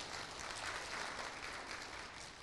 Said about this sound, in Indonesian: Yang percaya boleh berikan tepuk tangan bagi Yesus.